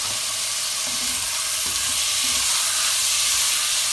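Ginger garlic paste and chopped tomato frying in oil for a Tamil mutton gravy, a steady close sizzle and hiss with a few soft stirring scrapes, no voices.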